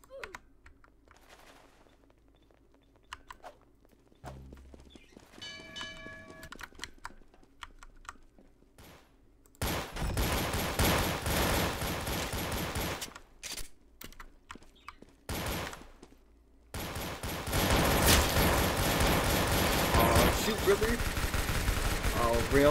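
Rapid gunfire in the Roblox shooter Arsenal, loud and dense in long sustained bursts with brief gaps, following a quieter stretch of clicks and voices; players talk over it.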